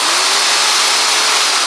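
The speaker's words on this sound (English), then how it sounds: "Drill, baby, drill, baby, drill." A Black & Decker power drill runs steadily and close by at high speed, a continuous whining buzz with no pauses, while a 6-meter Yagi antenna is being put together.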